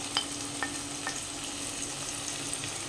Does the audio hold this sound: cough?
no